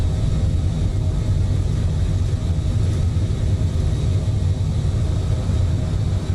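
Airliner engines roar steadily during takeoff rotation in Microsoft Flight Simulator, a dense, loud low rumble holding constant throughout with no voices.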